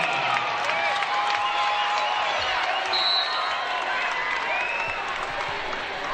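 Volleyball crowd cheering and applauding for Northern Cass at a Class B semifinal in an arena, a steady roar of claps and shouts that holds loud and full throughout.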